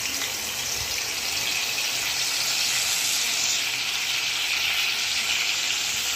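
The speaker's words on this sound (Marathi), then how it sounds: "त्याला आपल्याला फोडणी द्यायची. तर ठेचा घालून घेणार आहे मी सर्वात पहिले." Crushed green chili thecha hits hot oil in a kadai for tempering, producing a loud, steady, close-up sizzle and crackle that continues without a break.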